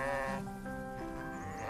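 Sheep in a herd grazing knapweed on rangeland bleat in a short, wavering call, heard faintly with no talk.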